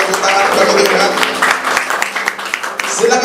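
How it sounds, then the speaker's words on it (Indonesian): Church congregation applauding together at a Sunday worship service, a dense wash of many hands clapping at steady loudness, with voices and room sound mixed underneath. "Mari tepuk tangan bagi Tuhan."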